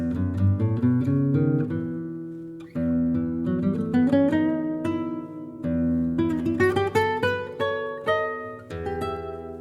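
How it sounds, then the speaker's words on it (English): Guitar notes climbing and descending in a melodic minor scale, ringing clearly with sustained tones, played twice through with a brief pause between runs. "That's the sound of the melodic minor scale."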